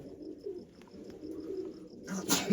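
Soft, low cooing from pigeons in a coop being cleaned, a quiet repeating murmur that continues steadily before a brighter burst of rustling near the end.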